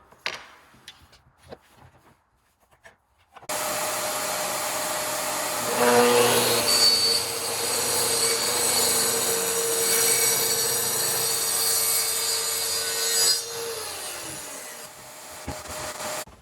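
Track saw cutting barnwood boards: after a few faint clicks and handling sounds, the motor spins up into a loud, steady whining roar as the blade bites into the wood, holds for about ten seconds, then winds down.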